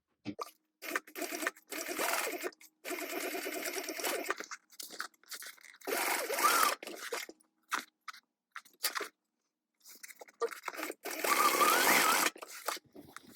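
A sewing machine stitches the side seam of a tote bag at a 3/8 inch seam allowance, running in bursts of rapid whirring. The bursts are broken by short pauses and silent gaps, heard up close with no one talking.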